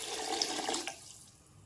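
Water poured into a pressure cooker holding eggplant and toor dal, a steady splashing pour that runs for under a second and then drops to a faint trickle before going quiet.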